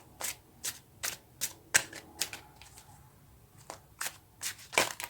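Tarot cards are shuffled by hand in about a dozen short crisp riffles and flicks, close and distinct, spaced irregularly with brief quiet gaps, no talking.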